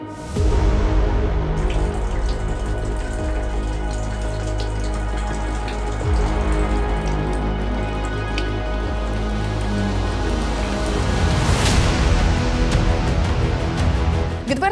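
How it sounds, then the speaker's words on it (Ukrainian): Rainwater leaking through a ceiling into an apartment during a downpour, a continuous splashing and pattering stream of water dripping and pouring indoors, loud and close, with no talk. "У людей у квартирах вода лється просто на голови"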